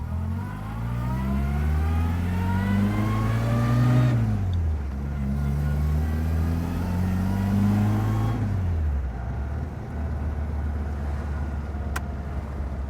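A 1960 Bugeye Sprite's small engine of about 45 horsepower revs steadily while driving through curves, pitch rising through the gears and dropping on two upshifts, heard loud and close from inside the car.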